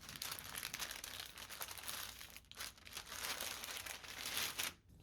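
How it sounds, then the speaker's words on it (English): Parchment paper is folded over a block of butter, giving soft, close crinkling and rustling in uneven bursts with short pauses. "Fold this parchment paper over the butter"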